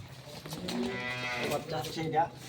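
A high-breed dairy cow at a cattle market in Sandwip, Chattogram, gives a single drawn-out moo lasting most of the moment, fairly close, over quiet background noise.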